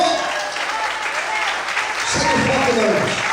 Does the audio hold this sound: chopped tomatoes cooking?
no